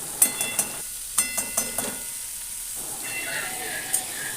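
Chayote squash and grated ginger get stirred with a spatula in a frying pan, giving a few quick scraping clacks over a soft sizzle, then a quieter, steady hiss.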